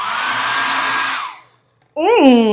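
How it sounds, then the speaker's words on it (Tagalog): A hair dryer in a hotel room blows loudly and steadily, cuts off for about half a second, then starts again at full strength, close and alone. "hindi nyo na kailangan mamroblema sa blower because"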